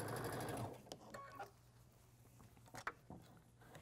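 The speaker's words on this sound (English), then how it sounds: "now I can just sew from here to here" A sewing machine stitches quilt fabric in a quiet indoor room, with a brief steady run at the start and then softer clicks and light handling noises.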